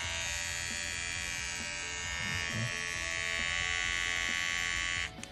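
A Wahl trimmer buzzes continuously at close range for about five seconds and then shuts off.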